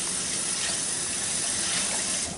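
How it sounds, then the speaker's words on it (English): A measuring cup is rinsed under running tap water, giving a continuous, close, loud hiss of gushing water that holds steady throughout with no voices. "let me rinse this."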